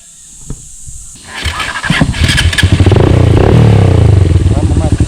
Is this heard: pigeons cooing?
no